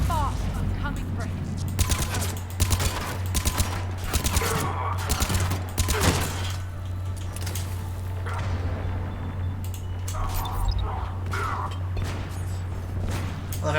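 Turret gunfire in Mass Effect: Legendary Edition comes in rapid bursts of sharp automatic shots, loud and close, with pauses between volleys over a constant low hum, and a player's voice talks during the fighting.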